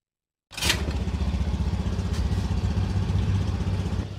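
A motorcycle engine, freshly rebuilt, starting with a sharp burst and then settling into a steady, fairly fast idle with a rhythmic mechanical clatter, loud and close, with no one talking.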